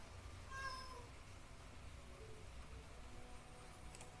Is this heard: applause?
no